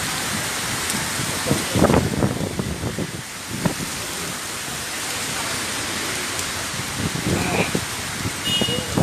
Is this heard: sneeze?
no